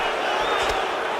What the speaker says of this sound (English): So the crowd absolutely loving it as these fighters work their way back to the feet.